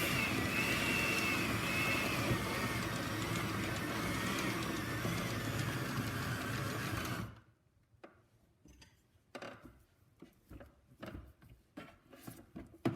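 An electric mixer beating thick vanilla cake batter, a loud steady whirring drone for about seven seconds, then cut off and followed by quiet scattered clicks and knocks.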